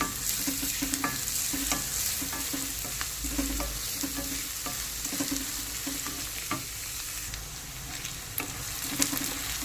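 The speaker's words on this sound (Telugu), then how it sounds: "కొని ఫ్రై చేసుకున్నాను ఇప్పుడు ఆనియన్స్ని." Onions sizzling and frying in a pan, a steady hiss broken by scrapes and knocks as they are stirred, close and fairly quiet with no talk.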